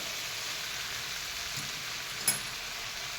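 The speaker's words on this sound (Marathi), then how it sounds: "तेलावर छान मसाला परतून घेतला ना चव पण छान येते त्याला" Masala sautéing in oil with fresh tender cashew kernels, giving a steady, soft sizzle throughout with a single small clink near the end.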